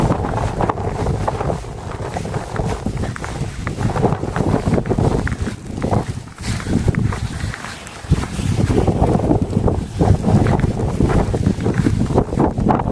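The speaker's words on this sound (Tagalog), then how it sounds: "Salubong namin yung hangin. Ilan na lang humangin. Lakas-lakas pa naman." Strong wind blowing snow in a snowstorm roars and gusts continuously, buffeting loudly and close throughout with a rough, rushing noise.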